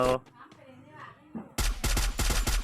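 Quick bursts of gunfire from the video game Free Fire start after a short spoken moment, loud sharp shots in a fast cluster of about five or six, close and dominant.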